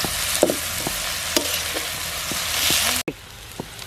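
Dried chillies frying in a pan in a village kitchen, a loud steady sizzle with scattered stirring clicks and scrapes, cut off abruptly near the end then continuing more quietly.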